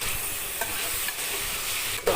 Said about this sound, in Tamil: நல்லா வேகிற அளவுக்கு எண்ணெயிலேயே நல்லா வதக்கணும்